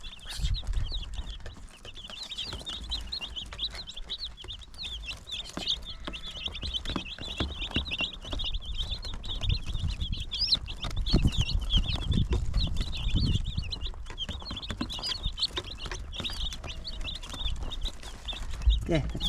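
Backyard chickens cluck and chatter steadily throughout at moderate volume, with thumps and handling noises underneath and occasional voices nearby.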